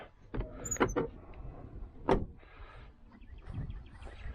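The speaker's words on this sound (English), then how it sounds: "Oh, you heard the car door open, didn't you?" A car door opens with a few clicks and a latch clunk, followed by faint rustling and shuffling nearby, with no talking.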